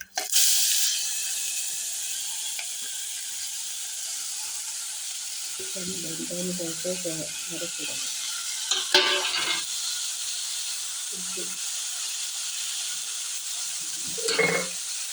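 Chopped mushrooms, onion and green chilli frying in a pan, a steady sizzle running throughout with bursts of stirring and scraping in the middle and near the end.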